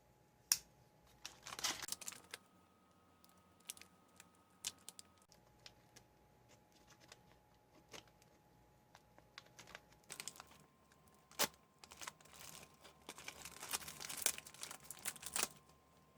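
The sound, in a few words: cutting open an accessory packet bag from a 1979 LRP ration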